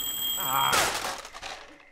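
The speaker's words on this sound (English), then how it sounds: "there's a fucking alarm or some shit" An alarm in the video game Firewatch holds a steady, piercing electronic tone, then gives way to a loud crashing burst that fades out over the following second.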